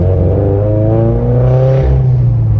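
A turbocharged Subaru BRZ fitted with a Tomei 80R exhaust revs loudly and close, its deep engine note climbing steadily in pitch across a sustained pull and then easing off.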